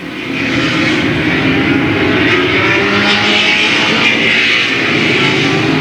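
A pack of Late Model stock cars roars down the front straightaway at Louisville Motor Speedway, a dense, loud, sustained engine drone from the field passing together with no break.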